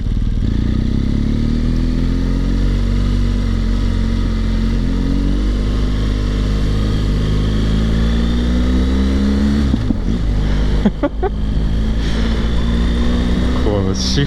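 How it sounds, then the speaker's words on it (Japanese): A BMW R1200GS motorcycle fitted with a Yoshimura R77 exhaust revs steadily, then shifts up with brief dips and rising engine pitch, loud and close, with someone talking over it. "このシフトアップした時の音ね。"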